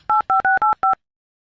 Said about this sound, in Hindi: पड़ोसन को फोन लगाता हूँ।